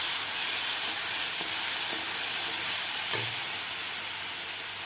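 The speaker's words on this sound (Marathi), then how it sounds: "आता व्यवस्थित आपल्याला 1 मिनिटभर हे ठेचा परतून घ्यायचा आहे" Garlic and green chili paste sautés in hot oil in a pan, a steady loud sizzling hiss that runs the whole time, with a few faint clinks from stirring.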